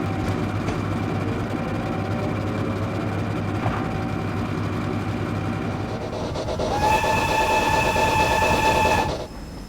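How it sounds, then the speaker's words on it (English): A London Transport Class 14 locomotive shunts a heritage coach in Train Simulator, its engine rumbling steadily before a loud, sustained whistle blast sounds near the end and then cuts off. "Here is a Class 14 teddy bear shunting one of the original coaches for comparison."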